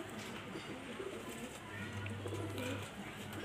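Soft pigeon cooing in a low, murmuring tone, with one longer coo standing out near the middle against a steady background hum.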